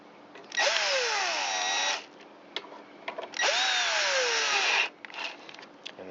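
A power tool drives carburetor bolts on a 2009 Troy-Bilt XP 12AI839G211 lawn mower in two loud, close whirring bursts of about a second and a half each. Each burst winds up in pitch, and brief clicks of handling fall between them.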